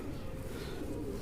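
A pigeon coos softly and continuously at close range, a low murmuring call with a faint background hiss.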